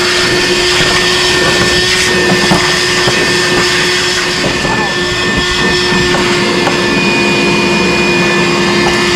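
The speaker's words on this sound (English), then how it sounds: "we'll vacuum all this out real quick" A loud vacuum cleaner roars steadily up close while vacuuming a Jeep Wrangler floor, its constant whining drone filling the whole stretch without pause.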